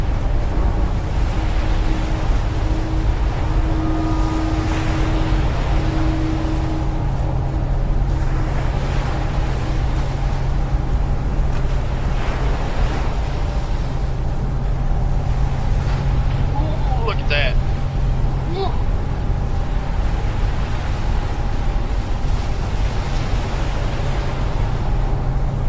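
In a video game, the Britannic ship moves through the Mediterranean with a continuous wash of water and surf, a low rumble, and wind. Faint tonal hints are heard along with the occasional voice.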